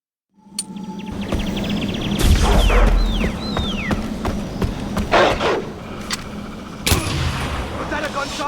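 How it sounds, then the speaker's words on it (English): Gunfire from the video game Far Cry 4 cracks out in several sharp bursts amid game effects and rumbling, loud and close, with no talk over it. "Was that a gunshot?"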